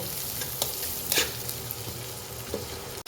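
Onions frying in oil over medium heat, a steady close sizzle with a few light stirring scrapes, alone without voices.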